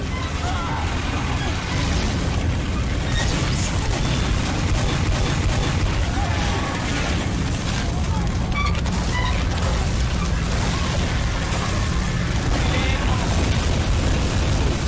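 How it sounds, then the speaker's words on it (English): Dense, loud barrage of booms and blasts from a Team Fortress 2 match, overlapping continuously with gunfire-like bursts, with a voice partly heard over the chaos. "Oh, it's explosions"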